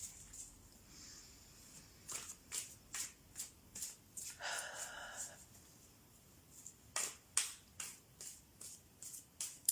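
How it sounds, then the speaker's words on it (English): Tarot cards are shuffled in a series of quick, crisp riffles and taps that come in irregular bursts, with one longer rustling flurry in the middle, all fairly close and quiet against a faint background. "I'm going to go back to shuffling"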